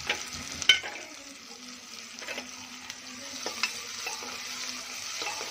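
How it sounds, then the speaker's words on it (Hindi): Onion and green chilies frying with white and black cumin and asafoetida in a pan, a soft steady sizzle broken by clanking spoon stirs near the start and scattered scrapes. "अब इनको अच्छे से भूनूंगी।"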